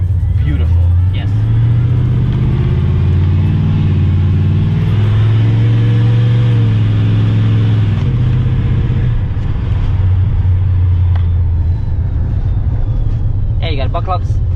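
A 650-horsepower supercharged Coyote V8 swapped into a 2000 Ford F150 XLT pickup, idling with a deep loud rumble and rising through a sustained rev before settling back, with voices talking over it.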